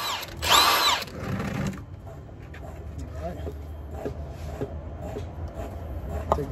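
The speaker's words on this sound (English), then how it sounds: "I'm going to use my impact gun." Pneumatic impact gun on a Jeep Patriot's front brake bolts, a short loud rattling burst near the start that fades into quieter workshop noise with scattered small knocks.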